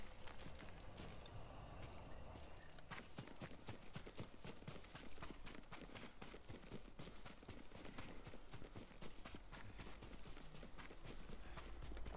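Horse hooves clip-clop in the video game Ghost of Tsushima, a faint, steady rhythm of hoofbeats lasting throughout under a wash of ambient noise.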